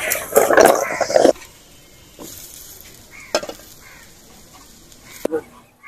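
Potatoes with green chillies, onion and garlic hit hot oil with a loud, brief burst of sizzling, then the frying settles to a quiet simmer with a few scattered clinks and knocks.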